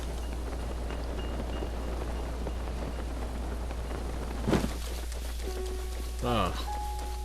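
Steady rain in the video game Zelda: Breath of the Wild hisses evenly throughout, with a couple of brief louder bursts and tonal game-like effects partway through.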